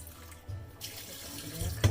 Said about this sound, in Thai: ล้างล้างล้างล้างล้างล้างอย่างให้สะอาดนะ